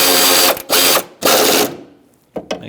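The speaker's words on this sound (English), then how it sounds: "make sure you slide that back over and put on the mounting nut. Tighten this back up." A ratchet tightens the mounting nut on the AC line bracket near the engine mount of a 2012–2018 Nissan Altima 2.5L. Three loud, close bursts of rapid clicking are followed by a pause and a couple of short final clicks.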